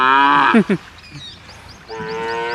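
Cattle and buffalo moo loudly nearby, two long harmonic calls separated by a short pause, with quieter calls in between.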